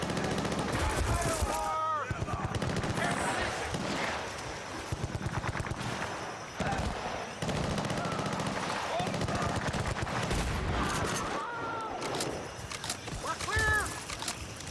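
Shotgun slugs fire in Battlefield Bad Company 2 multiplayer as repeated loud gunshots amid busy game noise, with people talking over the action.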